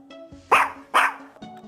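Small puppy barking: two sharp, close barks about half a second apart, with a steady background hum and a few faint sounds around them.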